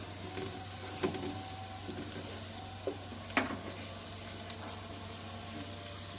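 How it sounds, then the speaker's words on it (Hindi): Ginger garlic paste frying in a pan for a chicken korma gives a steady, faint sizzle with a few soft clicks and taps from stirring, and no voices. "इसको हम 5 सेकंड के लिए अदरक लहसुन को भी फ्राई कर लेंगे।"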